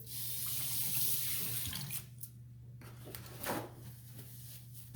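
Hands are washed under a running kitchen sink tap, the water stream steady and close at first, then quieter with splashes and shifting flow.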